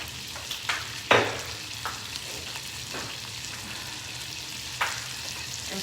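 Shrimp fry in truffle oil in Saladmaster cookware with a steady close sizzle, punctuated by occasional sharp clinks and scrapes of a utensil against the pan.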